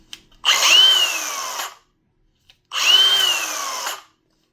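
Milwaukee Rapid Stop cordless angle grinder with a 120-grit flap wheel, revved up twice with a whining spin-up. Each run lasts about a second and a half and is followed by a quick stop into silence.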